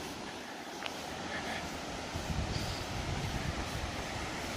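A high river rushes beside a road along the Appalachian Trail near Erwin, Tennessee, a steady loud broadband roar of fast water with gusty outdoor noise, continuous throughout and without talking.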